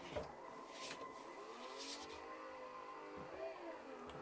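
A simulated car engine in a budget home racing simulator, revving hard during a drift clutch kick: rising and falling engine tones with short bursts of tire noise, moderately loud and continuous.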